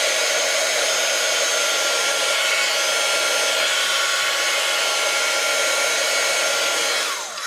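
A hair dryer heats a Dollar Tree fall craft piece with a loud, continuous blowing whoosh that stays close and steady for several seconds before easing off at the very end.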